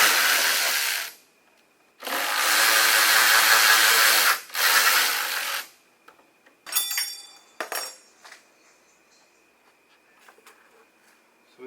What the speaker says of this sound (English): What you heard rattling and falling was shims.